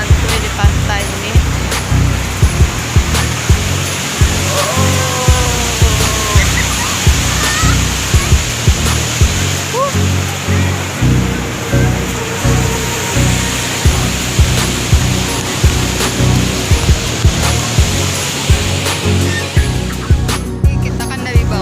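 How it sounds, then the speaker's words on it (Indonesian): Big ocean waves break at Kukup Beach in Gunungkidul, a loud continuous roar of surf with rhythmic surges and wind-like rush, close by, with occasional faint voices beneath. "Tapi bisa kita lihat ombaknya gede banget ya"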